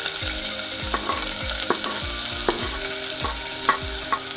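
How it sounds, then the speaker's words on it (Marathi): Finely chopped onion with crushed green chilies sautéing in hot oil in a pressure cooker for a potato bhaji, a steady bright sizzle broken by repeated scraping stirs of a spatula, close and alone without talk. "कांदा तेलावर कलर बदलेपर्यंत परतवून घ्यायचं."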